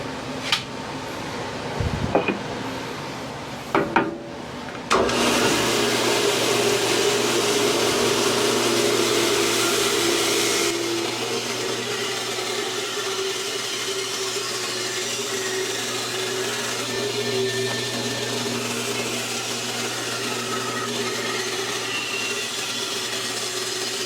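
A bandsaw whirs up after a few handling knocks and trims the corners off a wood blank, a loud steady whine with a cutting roar that eases into a lighter running hum.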